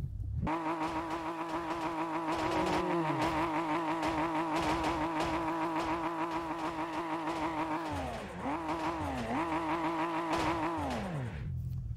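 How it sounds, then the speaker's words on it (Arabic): Heavily modified car engine with turbo and backfire, driven hard, its loud harmonic drone holding steady then dipping and climbing again between gear changes, continuous and close throughout. "سمعتوا صوت التربو؟"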